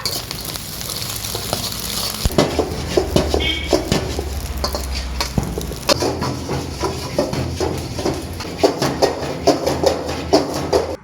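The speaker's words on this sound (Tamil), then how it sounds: "நல்லா வந்து வதக்கி விட்டுருங்க" Vegetables and chicken sizzle and fry in a pan at a roadside chicken rice stall, with a steady crackle broken by repeated scraping and clanking of a spatula stirring against the metal.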